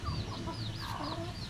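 Chickens cluck and murmur nearby, a few short throaty calls over a low background hum, with no voices.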